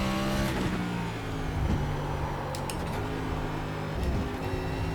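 Race car engine in iRacing running hard in second gear on the throttle around Circuit of the Americas, a steady loud drone with rising revs and harmonic whine throughout, with brief higher-pitched swells from other cars.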